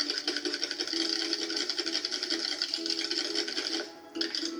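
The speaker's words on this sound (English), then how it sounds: "And whisk it." Olive oil, about five tablespoons, whisked briskly in a bowl, giving a steady, fast rhythmic scraping that runs close and fairly loud, pausing briefly near the end.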